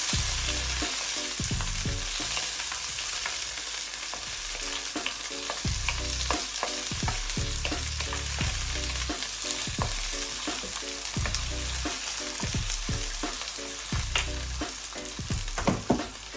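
Halved baby potatoes fry in a pan under a steady bright sizzle, broken by frequent scraping stirs through the whole stretch; no one speaks.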